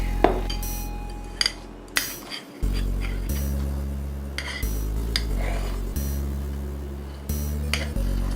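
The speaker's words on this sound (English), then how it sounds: "we're going to scoop it into an icing bag" Cookie icing for sugar cookies being scooped into a Ziploc bag used as an icing bag: intermittent close clinks and scrapes against a bowl over a steady low hum, no talking.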